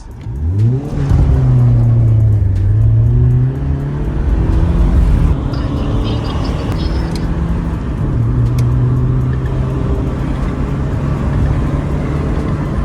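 A car engine tuned with a Stage 1 remap revs hard and steadily, its pitch rising and falling through several long, loud bursts, with no talking.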